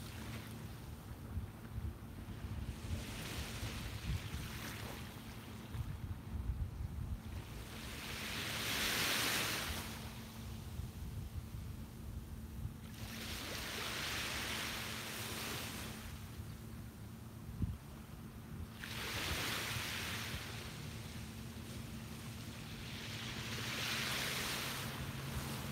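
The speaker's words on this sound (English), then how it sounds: "The birds, the sounds of the water, the sun reflecting on the waves." Ocean waves roll onto a beach in slow surges, each swelling and receding every few seconds with a soft wash of spray under light wind, fairly faint and steady with no voices.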